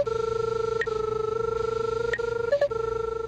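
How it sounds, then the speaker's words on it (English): An SR20 line-tracing receiver sounds a steady electronic guidance tone broken by short pinging chirps, three or four pings over a few seconds, indicating the signal lies to the left; close and clear with no talk. "You'll hear a pinging tone along with the normal audio."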